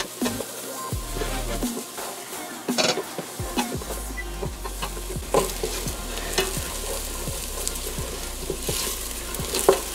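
Garlic cloves frying in a pan while baked ziti is made, a close steady sizzle with frequent spoon-stirring scrapes and taps against the pan over about ten seconds.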